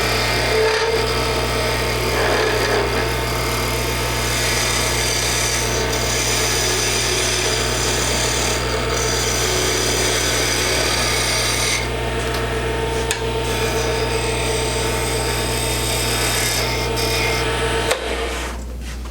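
A wood lathe spins while a turning tool, angled and used like a skew chisel, cuts a wooden Christmas ornament, giving a steady close-up scraping, rasping hiss over a constant motor hum, with no talk.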